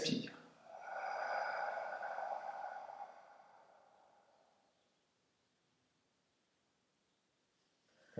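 A single slow, audible exhale during a spinal breathing exercise, a soft airy rush that swells after a brief intake and then fades to near silence, close and quiet.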